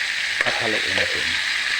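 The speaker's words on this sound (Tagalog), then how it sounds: "At haluin natin." Food frying in a pan with plenty of ingredients, a loud continuous sizzle with a spatula stirring and scraping through it, and a faint voice briefly underneath.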